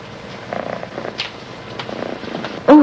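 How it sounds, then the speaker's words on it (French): A cat purrs softly and close, a low rough rumble rising and falling, ending in a sudden louder noise. "Oh, ce chat est à vous?"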